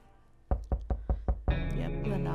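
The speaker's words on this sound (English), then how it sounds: "Yep, the knocking, but nobody's gonna answer you." Five heavy, evenly spaced knocks on a shelter door in the game 60 Seconds, thudding close and loud, followed by a swelling musical sting.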